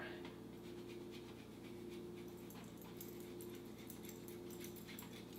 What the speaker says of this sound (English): my dog is just below the stove, eating all the cheese that I'm dropping